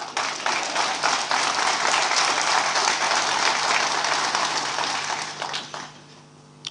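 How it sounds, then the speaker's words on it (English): An audience at a Rotary district conference at a resort breaks into sustained applause for a speaker, a full, dense crowd clapping that holds steady for several seconds before thinning out near the end. "Clap if you want to clap for him."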